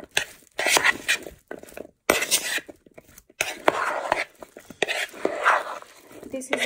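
Tomato, avocado and cucumber salad with green onion being mixed in a bowl: short bursts of wet squelching and soft utensil clinks, separated by brief pauses, close and moderately loud.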